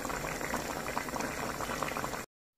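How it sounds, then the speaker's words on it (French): A pot of watermelon sauce with vegetables bubbles at a steady, close simmer, with a dense, continuous gurgling boil and no voices, cutting off abruptly near the end. "Mijoter avec les légumes d'abord."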